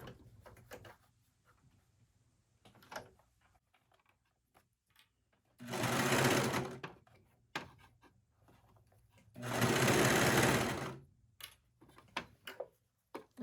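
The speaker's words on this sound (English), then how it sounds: "we're just gonna go ahead and sew around in that circle" Sewing machine stitching leggings fabric in a circle, two loud sustained whirring bursts of rapid stitching separated by quiet handling clicks and taps, close and alone with no talking.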